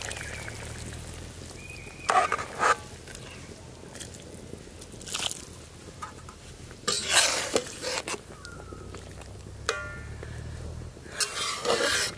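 Mustard paste is stirred into a simmering curry of ripe mango and snakehead fish, with wet squishing, scraping spoon strokes and a faint bubbling sizzle underneath, all close up and without speech.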